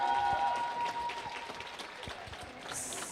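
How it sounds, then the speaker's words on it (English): Spectators at a roller derby game applaud a 100-100 tie, a steady wash of clapping and crowd noise heard at a moderate distance, with a brief tone early on. "I think we should applaud that."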